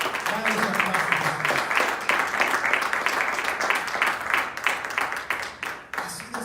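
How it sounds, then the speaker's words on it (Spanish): Church congregation clapping steadily during a sermon, dense sustained applause with a few voices calling out over it. "Oh, hermano, dale ese aplauso a Jesús, hermano."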